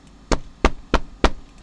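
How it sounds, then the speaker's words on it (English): Four firm, evenly spaced knocks on a door ring out close and loud, alone in a quiet room. "He had just finished by the time the wolf reached the brick house and knocked"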